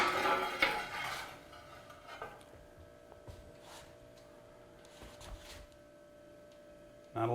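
Metal pans and utensils clatter in a kitchen as a pan is handled and set down, with scattered clinks and knocks over a low steady hum, closing on a louder clank.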